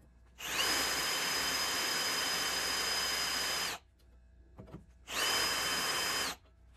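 Power drill at low speed with WD-40 as cutting fluid bores through metal for a carry-all build, two close bursts of high whining motor and grinding cut, separated by a short pause with faint knocks.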